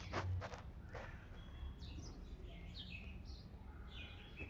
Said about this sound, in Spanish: Llegaron los primeros gorriones, miren.